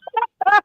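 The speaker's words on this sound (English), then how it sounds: "The roosters." A rooster on a farm with chickens gives two short throaty calls, a brief clucking burst followed by a longer harsh crowing cry, close and alone.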